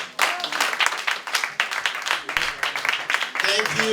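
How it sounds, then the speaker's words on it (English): A gathering welcoming an African royal delegation breaks into brief, lively applause, a close burst of many hands clapping with voices mixed in. "big round of applause for the most prolific, progressive, passionate Ambassador Tete, please."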